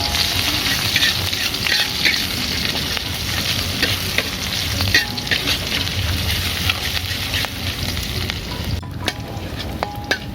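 A seasoning paste made with tauco sizzles and fries loudly in a pan while being stirred, a close, continuous crackle with occasional scraping, as the base is prepared for stir-fried water spinach.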